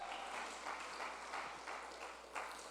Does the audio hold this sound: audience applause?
yes